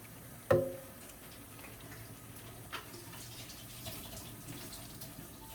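Water runs steadily from a tap as dye bottles are rinsed out, a soft continuous splashing with a sharp knock near the start and faint clinks.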